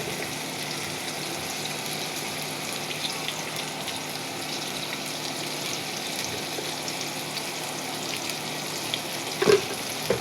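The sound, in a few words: spices frying with onions in a pan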